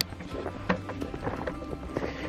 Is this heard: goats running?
yes